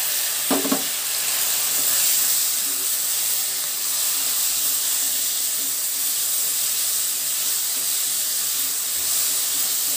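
Chana dal tempering in hot oil in a pan, giving a steady broadband sizzle and hiss for the whole stretch, with a brief stir clatter near the start and no talking.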